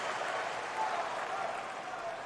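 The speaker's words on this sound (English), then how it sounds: "Helena standing up again, applauding Djokovic." Audience at the US Open men's tennis final applauding in a steady, dense wash of clapping that holds throughout, with crowd murmur mixed in.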